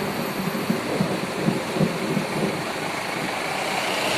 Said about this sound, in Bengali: বিশাল মেঘ ডাকছে বিশাল